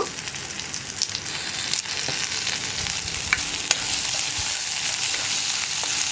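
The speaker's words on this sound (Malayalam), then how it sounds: "ഇനി നമ്മൾ ചേർക്കുന്നത് കറിവേപ്പിലയാണ്. ഒരു 2 തണ്ട് കറിവേപ്പില." Two sprigs of curry leaves fry in hot oil in a pan while ash gourd and bean erissery is cooked. The sizzle is bright and steady, with a few crackles and stirring scrapes, close and continuous, without talk.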